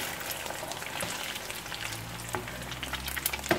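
Eggs and sausage fry in a pan with a dense, steady sizzle and crackle, with occasional scrapes from stirring and no voices.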